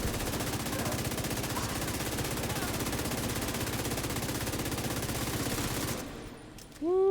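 Sustained rapid automatic gunfire in The Division 2 shooter game rattles continuously for about six seconds, then cuts off, leaving faint game effects and a rising electronic tone.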